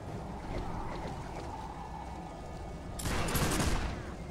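Massed musket volley in a Warhammer: Mark of Chaos battle, a loud burst of gunfire erupting over a steady rumbling battlefield din, then dying away.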